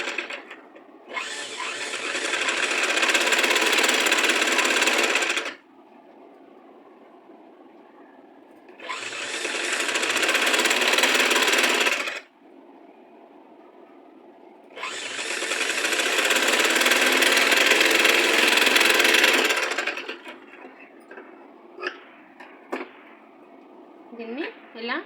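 A sewing machine stitches a blouse back piece in three bursts of fast, buzzing running, each several seconds long, separated by quiet pauses with faint handling noises.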